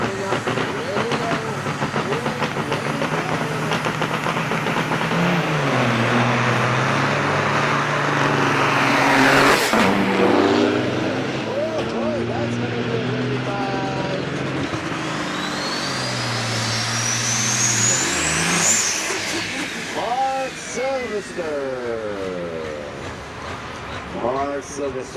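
Big rig trucks at an Onaway Speedway drag race roar and rev loudly and continuously, the engine pitch climbing and falling, with hiss and crowd noise and an announcer talking over it.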